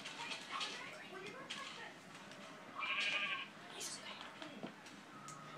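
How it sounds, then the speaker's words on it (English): Sheep bleating in the video game Minecraft, a few short game bleats mixed under a player's ongoing casual talk, moderately loud and close. "yeah, here's another sheep."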